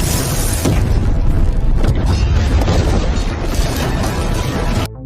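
A room explodes in a cinematic film effect: a heavy, sustained boom with rumbling debris fills nearly five seconds at high volume before cutting off abruptly.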